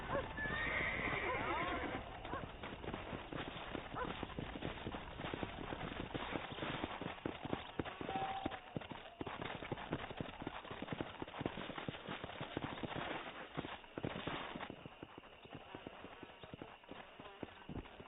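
A horse in the Red Dead Redemption video game neighs and whinnies while its hooves clip-clop steadily, with game ambience behind it and a short, muffled burst of talk.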